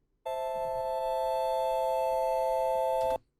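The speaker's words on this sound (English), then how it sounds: "Without any of the effects, the chord would sound like this." A plain bell-like synth chord built from a recorded key ignition sample rings out steady and clear with no added effects, sustaining for about three seconds before cutting off abruptly.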